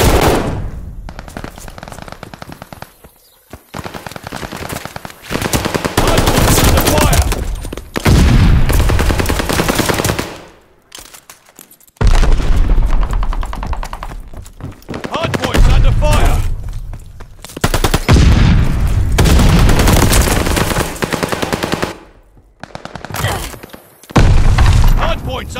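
Sustained gunfire around a hardpoint in Call of Duty: Vanguard, with loud rapid automatic bursts, booms and thuds repeating in dense waves, broken by short lulls, with voices calling out in the mix.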